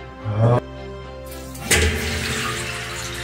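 Water runs from a faucet during a home pressure tank replacement, a close hissing gush that surges, drops back, then surges again with a clunk before settling into a steady flow.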